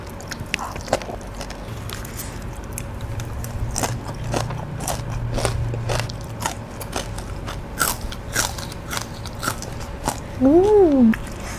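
Crispy dried beef dendeng bitten and chewed close to the mic, with sharp crunchy bites scattered across the clip and faint background voices.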